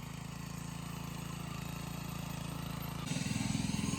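A tractor runs steadily while ploughing a field, its blades cutting into the soil for a sesame crop. The engine drones with a low, even rumble and rises a little louder near the end, with no voices.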